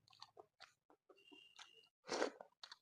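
Crunchy pakora being chewed up close, with irregular crisp bites and a louder crunching burst near the end, plus faint mouth sounds in between; no talking.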